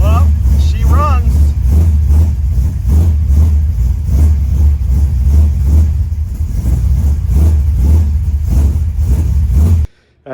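A hot rod drag car engine runs and revs close by, a loud rough throbbing idle with a couple of sharp revs near the start, then cutting out abruptly at the end.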